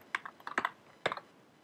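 Typing on a computer keyboard, close and fairly quiet, in two short irregular bursts of clicking keystrokes separated by a brief pause.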